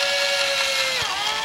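Drill spinning a soft polyfoam prop drill bit at low RPM, a steady continuous whine with a faint pitch dip partway through, close and loud, no talking.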